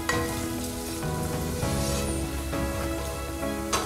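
Spices tempering in hot oil for a Maharashtrian rice ukad breakfast, giving a steady, close frying sizzle that continues evenly throughout with faint crackles and no talk.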